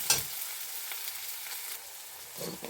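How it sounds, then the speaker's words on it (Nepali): Soft, steady sizzling and crackling of onion, garlic and ginger frying in a pan, with a couple of brief stirring scrapes. "यसलाई हल्का ब्राउन हुन्छ भुट्नु"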